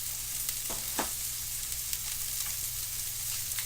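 Butter sizzles in a frying pan while a cheesesteak grilled cheese is made, a soft steady hiss over a low hum, with a few sharp clicks and taps of utensils and no talking.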